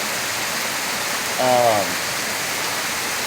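Constant heavy rain hissing during a storm, dense and steady throughout, with a brief voice-like tonal sound breaking in near the middle.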